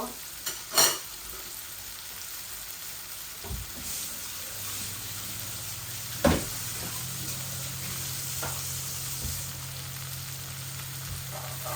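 Vegetables and onions fry in a pan for fried rice with a steady, moderate sizzle, broken by a few sharp clacks of stirring or utensils and a low hum appearing partway through.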